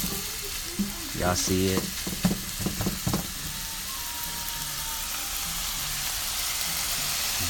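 Pork for tacos sizzling steadily in a pan, a broad continuous hiss with a few stirring clatters early on and a brief spoken remark over it.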